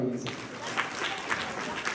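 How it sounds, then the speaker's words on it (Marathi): Village audience at a Home Minister game show gathering claps in rhythm, a steady beat of hand claps under a woman's ongoing speech. "दररोज टाळ्या वाजवा"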